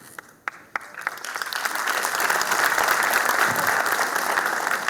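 Audience applause at a poetry recital honouring martyrs, opening with a few isolated claps before swelling into sustained, dense clapping from a large crowd that holds steady to the end.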